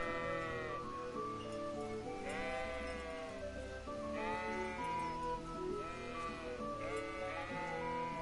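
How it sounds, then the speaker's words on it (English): Sheep in the Kingdom Come: Deliverance video game bleat repeatedly, several wavering calls overlapping in steady succession at moderate distance. "Sheeps!"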